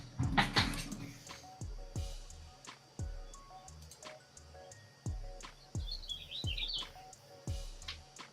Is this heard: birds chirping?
yes